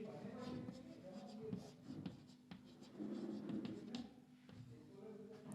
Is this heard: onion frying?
no